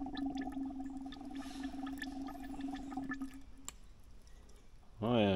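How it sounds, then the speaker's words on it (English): Air bubbles gurgle and drip through brake fluid while a Hydroboost brake system is reverse bled, a steady low hum with scattered wet pops and ticks, then a voice speaks at the end. "there's a lot of air bubbles when you back bleed or reverse bleed"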